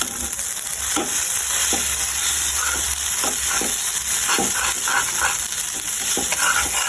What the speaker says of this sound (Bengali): যে ম্যাগিটাকে এখন দিয়ে দিয়েছি, এখন এটা একটু ভাজি ভাজি হলেই নামিয়ে নেব